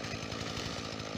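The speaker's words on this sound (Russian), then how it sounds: "Сейчас еще вон тот пенек аккуратно отпилю." A Husqvarna 120 Mark II chainsaw cuts through a tree stump, its engine loud, close and continuous with a rough, buzzing steady drone.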